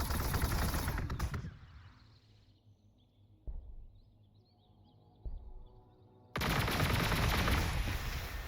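Gunfire from a long-range shot in the strategy game Warhammer 40,000: Gladius, with a T'au unit firing on machines. Two brief, sharp shot impacts stand out against a quiet stretch, set between louder bursts of game noise.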